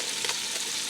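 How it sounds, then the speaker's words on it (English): Butter sizzling in a pan while a leftover pasta bake is prepared, a steady broadband frying hiss with faint crackles, close and moderately loud, with no voices. "now that that's sizzling, just want to bring that butter all the way almost to browning"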